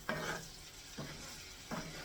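Granny Smith apple slices sizzling in butter in a pan, three separate bursts of stirring and scraping with a soft sizzle between them, close and quiet.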